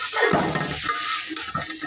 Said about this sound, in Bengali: তো এগুলোকে ভালো করে কষিয়ে নিব একদম ভাজা ভাজা করে